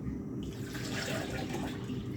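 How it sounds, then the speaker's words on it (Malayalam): Water is poured steadily into a pot, a brief continuous splashing gush close by with no voices. "ഇനി നമുക്ക് ഇതിന് ആവശ്യത്തിനുള്ള വെള്ളവും കൂടെ ഒഴിച്ചു കൊടുക്കാം"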